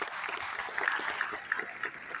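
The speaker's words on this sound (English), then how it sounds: "let's hear a round of applause for Sophia." Audience applause after a question session, a faint, steady round of clapping that continues evenly with no talk over it.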